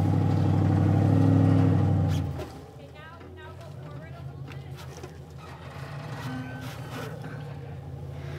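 A truck engine revs loudly and steadily while pulling a stuck Bronco, then drops to a low idle as people talk nearby.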